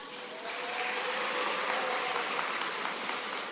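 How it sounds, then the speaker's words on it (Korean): A hall audience claps at a national quality circle competition in Korea, a broad even wash of applause that swells early and holds steady, fairly distant and uninterrupted by speech. "예상했던 것보다 박수 소리가 큰데요."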